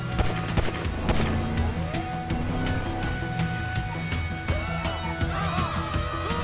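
Gunfire in GTA 5 during a car chase: scattered sharp shots crack repeatedly over a steady engine rumble and game ambience, with occasional louder bursts throughout.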